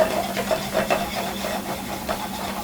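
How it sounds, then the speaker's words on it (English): Ingredients sauté in a pan for spicy rigatoni alla vodka, a steady sizzling hiss with faint scraping, close and constant over a low hum. "So we're gonna saute that over here"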